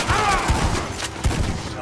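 Gunfire in the video game Red Dead Redemption, a rapid volley of muffled shots and thumps at an uneven rhythm, fairly loud and close, heard without speech.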